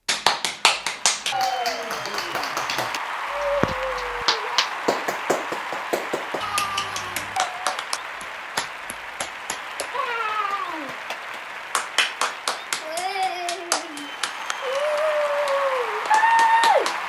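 A round of applause of steady clapping fills the scene, while meowing, cat-like cries rise and fall over it throughout.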